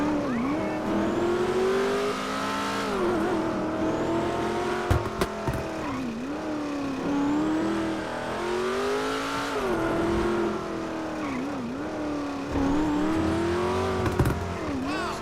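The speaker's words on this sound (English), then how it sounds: "Car is so loud, insanely loud." A car engine in GTA 5 revs and drones continuously, pitch rising and falling with repeated acceleration, with a brief tire squeal midway.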